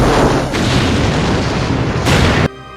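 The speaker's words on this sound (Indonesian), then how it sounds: "membuat pom bensinnya meledak" A petrol station blows up in a film, a loud, roaring blast that rumbles and swells for about two seconds, surges once more, then cuts off abruptly.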